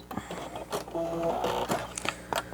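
A sewing machine stitches a fabric face mask with a pocket and nose piece, running in short bursts with a steady mechanical hum and rattle, pausing between runs and finishing with a back stitch.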